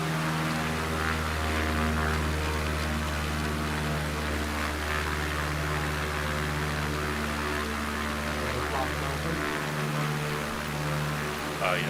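A small propeller airplane drones steadily in the cockpit with a loud, even engine hum, its pitch sagging slightly as the throttle eases back near the end, with talk over the engine.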